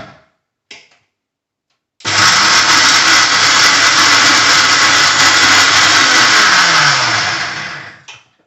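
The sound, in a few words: mixer grinder grinding fried chillies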